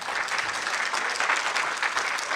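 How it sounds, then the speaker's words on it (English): A crowd at the 2024 Indiana Senate District 3 Democratic debate at a community center applauds steadily, a dense, even wash of many hands clapping with no voices over it. "You may applaud"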